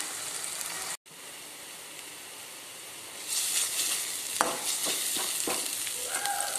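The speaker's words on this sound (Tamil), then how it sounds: "நல்லா கிரேவி வந்து திக்காக வர வரை நல்லா வதக்கலாம்" Thick mint rice gravy sautéing in a pan, a steady close sizzle and hiss with brief stirring scrapes and clinks toward the end, no voices.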